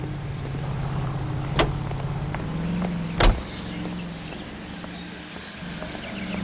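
A car driving in L.A. Noire with a steady engine hum and low rumble, marked by two sharp clunks, the second one louder.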